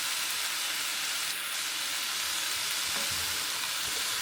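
Beans being stirred into chilli in a pan, a steady close sizzle with soft scraping of the spoon and a brief clunk near the end, no voices.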